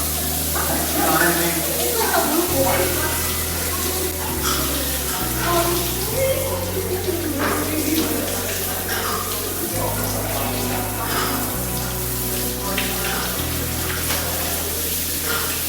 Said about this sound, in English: Now we have to shower.